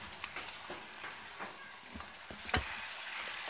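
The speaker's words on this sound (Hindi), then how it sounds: "मसाला हमारा अच्छे से मिक्स हो रहा है" Chicken karahi masala fries in a pan with salt, black pepper and turmeric, a soft continuous sizzle with occasional scrapes and knocks of a stirring spoon, fairly quiet and close.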